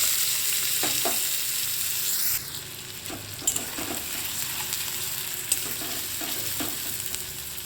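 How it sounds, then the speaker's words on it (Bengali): Onions frying in oil in a wok as part of a taro and potato curry, a steady close sizzle with a few sharp stirring scrapes and clinks scattered throughout, no talking. "এবার পেঁয়াজগুলোকে ভেজে নেব"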